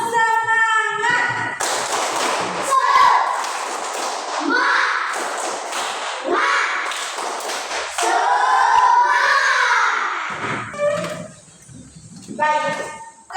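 A school class performs the 'tepuk semangat' spirit clapping chant: many children chant together in rhythm, punctuated by bursts of loud group claps and thumps, ending with a final shouted phrase.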